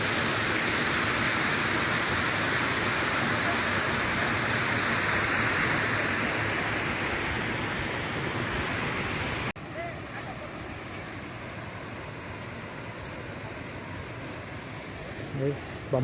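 Water rushes as it overflows at Bhivapur Lake, a loud, steady broadband roar that fills the first nine seconds, then drops abruptly to a quieter, more distant rush.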